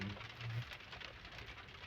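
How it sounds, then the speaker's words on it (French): Heavy rain pours down in Lyon, a steady, dense hiss of drops drumming on surfaces nearby, continuous and unbroken with no voices over it. "Sauf que là il pleut vraiment fort quoi."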